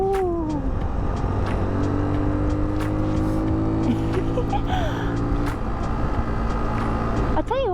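A Sinnis Terrain 125 motorcycle rides and leans through corners, its small engine droning steadily under wind rush with rising and falling pitch, close and continuous.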